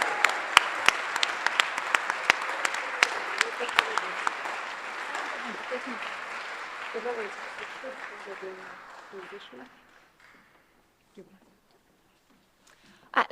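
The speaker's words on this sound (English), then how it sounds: "Another round of applause for our scholars." Applause for honored scholars at a ceremony builds into a full, dense round of clapping with voices underneath, then tapers off and dies away into near silence after about ten seconds.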